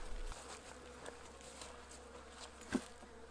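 Honeybees at a hive make a soft, steady buzz close by, with a faint low drone and a small bump near the end.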